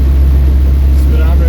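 Electric-converted 1976 MG Midget running at top speed, a loud steady low rumble of road and wind noise with a faint high whine riding above it.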